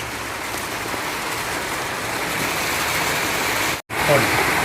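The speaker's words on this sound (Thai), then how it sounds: "ฝนตกครับ" Steady rain falls outdoors with a dense, even hiss of drops hitting surfaces, broken by a brief silent gap near the end before continuing.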